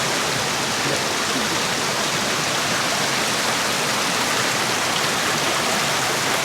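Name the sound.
river flowing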